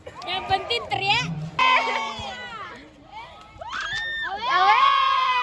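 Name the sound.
crowd shouting and cheering at a school sports event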